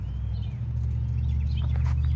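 A pitched-down, distorted synth wavetable tone hums as a dense, buzzing low drone with a faint lightsaber-like waver, steady and sustained throughout.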